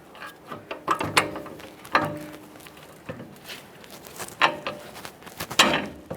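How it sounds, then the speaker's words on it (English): Steel pry bar levering against the front strut coil spring to pull down the upper control arm ball joint on a 2015-2020 Ford F-150: close, irregular metallic clanks and scraping knocks in uneven bursts, no talk. "So I'm just going to use a pry bar up inside this area."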